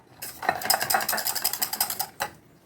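A mixture beaten by hand with a utensil instead of a beater, for a birthday celebration cake, makes rapid rhythmic clicking and scraping strokes against a bowl, close and steady for about two seconds with no talk.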